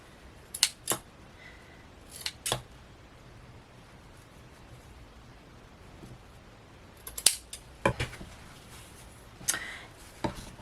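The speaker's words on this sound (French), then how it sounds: "Je vais couper ce qui dépasse" Scissors snipping off excess material in a handmade gift craft, sharp crisp cuts heard close and fairly quiet, in scattered single and paired snips separated by pauses.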